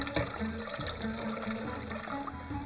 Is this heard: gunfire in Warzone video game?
no